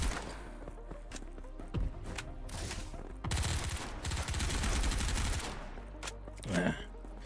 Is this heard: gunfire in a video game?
yes